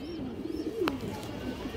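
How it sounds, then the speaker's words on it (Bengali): A female pigeon gives a single soft, low coo close by over faint background noise. "অনেক সুন্দর একটা মাদি কবুতর"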